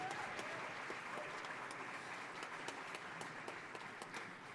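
An audience at an outdoor jazz concert applauds the bassist, steady dense clapping that carries on evenly at a moderate distance.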